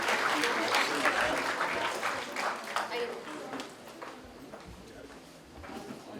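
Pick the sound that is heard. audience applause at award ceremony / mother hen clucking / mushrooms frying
audience applause at award ceremony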